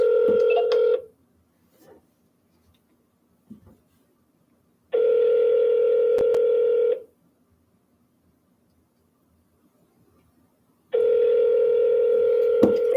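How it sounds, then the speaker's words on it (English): Telephone dial tone during a real estate cold call, sounding in three steady two-second bursts separated by pauses with faint background noise, loud and close with no talking. "Dial your lead."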